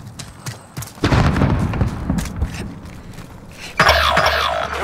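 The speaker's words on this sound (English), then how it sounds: "Throwing frag." A frag grenade going off in Call of Duty, with loud booms and gunfire-like bursts around the one-second mark and again near the end, close and heavy.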